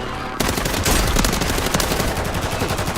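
An MCW rifle fires a loud, punchy stream of rapid automatic shots in Call of Duty Warzone. The burst starts abruptly and runs nearly continuously for about two and a half seconds, with no voices over it.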